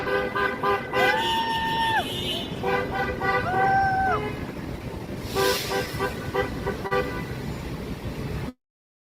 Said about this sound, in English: there's half of the people honking